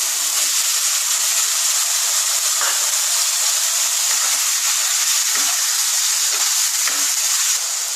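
Chicken pieces hit a hot pan with a little water after the gas is turned down, setting off a loud, steady, close hiss of sizzling that holds for the whole stretch.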